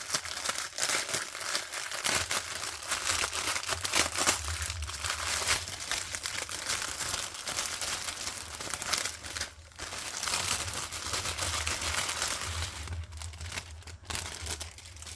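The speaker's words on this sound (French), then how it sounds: "Je vais ouvrir tous mes sachets." Continuous crinkling and rustling of small plastic bags of diamond painting beads being opened, a close, steady crackle with brief pauses and no talking.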